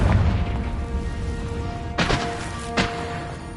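The Confringo blasting spell goes off twice in a magic game, two sharp booming blasts less than a second apart over a low rumbling background.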